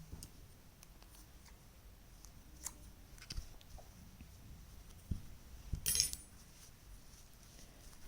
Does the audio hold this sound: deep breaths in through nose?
no